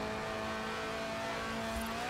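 Tuned, stripped-out Lotus Elise Sport 190 track-day car drifting in the Forza Horizon racing game, its engine holding a loud, sustained, steady drone throughout with no talk.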